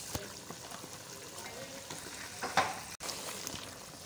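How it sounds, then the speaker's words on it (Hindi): Potatoes fry in a pan for veg kofta pulao, giving a soft, steady sizzle up close with a few stirring clinks and scrapes, quiet and with no talking over it. "ये देखिए मैंने आलू डाल दिए"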